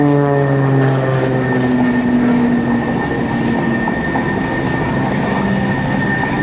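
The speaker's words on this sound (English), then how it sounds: "She's doing some maneuvers in the airplane that Walter Extra, the designer, said couldn't be done" A stock Extra 300L aerobatic airplane performs maneuvers at the 2005 NAS Oceana airshow, its propeller engine giving a loud, steady drone with pitch slowly sliding as it climbs and dives, continuous throughout.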